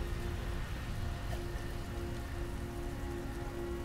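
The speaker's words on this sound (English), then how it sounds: "Perhaps because it's always fucking raining." Steady, dense rainfall from the game Heavy Rain, a continuous hiss of drops striking surfaces, even and fairly loud throughout with a low rumble underneath and no talking.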